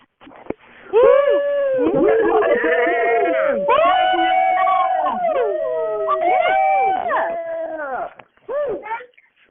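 Several people cheer, whoop and howl loudly over an open conference call line, their overlapping voices filling the line almost continuously before fading into a few scattered shouts at the end.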